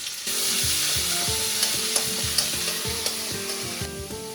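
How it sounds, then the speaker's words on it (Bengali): Ginger and garlic sizzle steadily in a hot pan, a loud, continuous crackling fry close up, with repeated scraping and stirring strokes and occasional sharp spatters over the top. "আদা রসুনটাকে ভালো করে কষিয়ে নেব"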